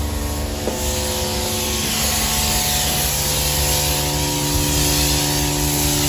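Degreasing product is sprayed in low pressure onto a car's bodywork at a car wash station, a loud continuous hiss over a steady mechanical hum.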